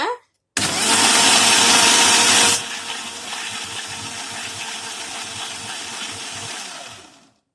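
A mixer grinder whirs loudly as it blends eggless mayonnaise with lemon juice, a steady high-pitched motor roar for about two seconds that then drops to a lower, rougher grinding hum before cutting off.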